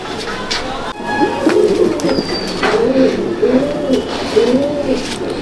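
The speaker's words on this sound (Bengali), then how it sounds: "ডানা কাটা আছে, ধাড়ি পায়রা ছেড়ে দিলাম।" An adult pigeon with clipped wings coos in a handful of rolling calls near the listener, while loft noise rustles underneath and a thin whistle-like tone slides briefly past.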